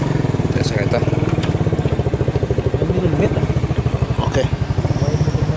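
A motorcycle engine idles nearby with a fast, steady popping beat, while someone speaks briefly over it.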